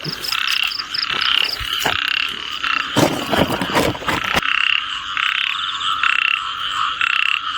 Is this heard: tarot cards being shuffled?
no